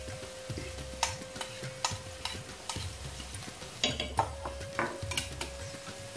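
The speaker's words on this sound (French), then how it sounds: "Je vais bien mélanger." Garlic and onions frying in a pan for a Moroccan green bean tajine, stirred with a utensil that gives repeated scraping strokes about every second over a steady sizzle, with a few light metallic clinks.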